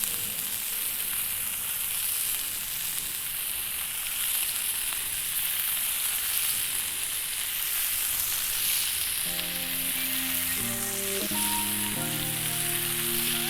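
Salted pork pieces sear in a hot pan with a loud, continuous broadband sizzle that stays even throughout; a tonal background hum joins in the latter part.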